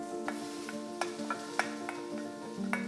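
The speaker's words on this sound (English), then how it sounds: "Allow the tomatoes to char for a couple of minutes." Cherry tomatoes blistering and charring in a hot pan, giving a faint, steady sizzle broken by a few sharp pops and light ticks.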